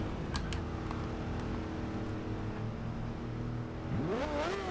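A 2010 Aston Martin One-77 with a 1030-horsepower engine in Forza Horizon 2 idles with a steady drone, then revs sharply near the end, its pitch sweeping upward loud and close.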